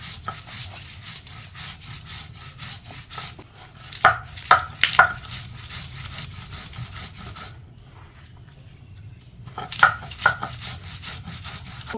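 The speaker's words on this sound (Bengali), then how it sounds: "এবার বেটে নেব।" Mustard seeds, poppy seeds and green chilies ground into a paste, with steady rhythmic rasping and rubbing strokes, a brief pause partway through, then the grinding resumes with a few sharper knocks.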